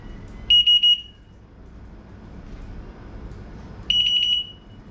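Door and window alarm sounding as a door is opened, two short bursts of shrill high beeping, the first three quick pulses, separated by a few seconds of quiet room noise.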